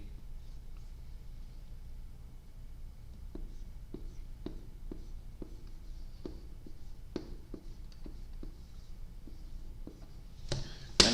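A pen or marker writing, heard as a series of short, faint scratching strokes in an uneven rhythm over a quiet room, ending in a brief louder rustle.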